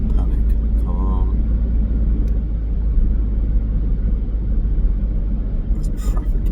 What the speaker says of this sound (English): There's traffic here.